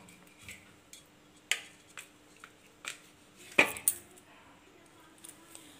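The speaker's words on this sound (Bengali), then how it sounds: "এবারে এই পনিরগুলোকে আমি বড় বড় কিউব করে কেটে নেবো" A knife cuts paneer into large cubes on a board, making about a dozen irregular, sharp close taps and clicks separated by short quiet gaps, with one louder knock near the middle.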